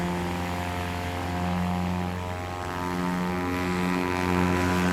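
A Husky light aircraft flies at a short takeoff and landing practice in Jennings, Louisiana. Its propeller engine drones loudly and steadily with a strong buzzing tone, swelling slightly as it passes, and no voices are heard.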